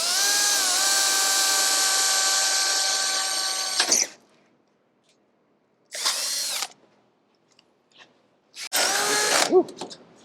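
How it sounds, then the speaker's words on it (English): A power drill with a 3/8-inch bit whines at high speed for about four seconds, stops, then runs in two shorter bursts that bite and slow as it cuts into a Toyota Tacoma's metal frame. "Be careful when you're drilling not to hit brake lines and such"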